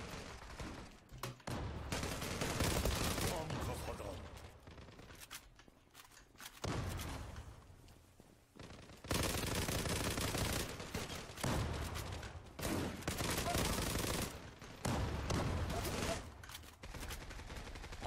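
Game gunfire in the Turkish shooter Zula, with long sustained bursts of rapid automatic fire that stop and restart several times, loud and dense, with no talk.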